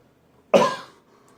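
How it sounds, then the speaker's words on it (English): One sharp cough, close and loud, fading quickly into quiet. "Got a little cough, excuse me."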